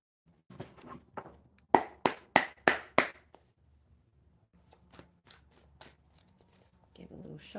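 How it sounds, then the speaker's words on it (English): A deck of oracle cards is shuffled close by in a run of crisp, rapid riffling bursts, followed by softer scattered taps and rustles. "Give a little shuffle to the cards."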